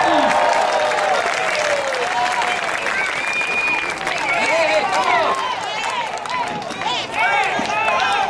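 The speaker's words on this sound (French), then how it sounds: "On l'applaudit." Spectators at a Canadian boules competition applaud a leading player, brisk clapping mixed with lively chatter and calls from people nearby throughout.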